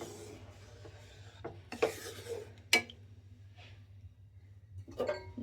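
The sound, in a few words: stirring fish curry in a pan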